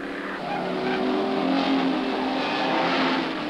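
Ford touring race cars scream down Conrod Straight at Bathurst, engines howling loud and close with rising, overlapping revs across a few seconds, no voices heard over them.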